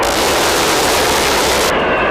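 An A-10 Warthog attack jet fires its cannon in one loud, continuous, ripping roar lasting under two seconds before cutting off abruptly.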